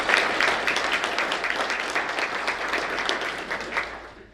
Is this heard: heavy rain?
no